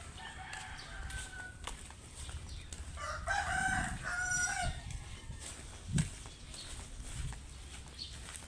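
Chickens cluck around a farmyard, feeding time, with a rooster crowing in the middle, the fowl sounds moderately near over steady background noise and no talk.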